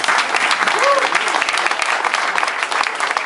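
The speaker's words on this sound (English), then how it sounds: "A big round of applause for all of you" Loud, dense audience applause at Kepler's bookstore, a continuous roar of many hands clapping at close range, with a faint voice briefly rising above the clapping near the start.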